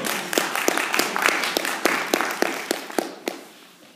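A church congregation claps for the Lord, with distinct sharp claps landing in a loose rhythm over a bed of lighter scattered clapping that thins out toward the end.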